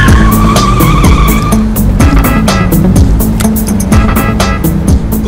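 A car speeds hard and skids, tyres squealing repeatedly over a loud, continuous engine roar with rhythmic bumps and rattles, close and dominant throughout.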